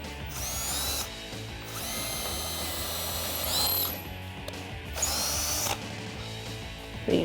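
A power drill with a 3/16 inch bit whirs in several loud bursts separated by short pauses, biting into a Jeep Wrangler JK door area close by, with no talking.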